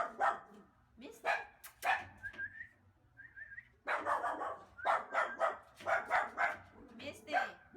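A dog barks repeatedly in short, sharp bursts, close by, mixed with a person's voice calling and talking over and between the barks.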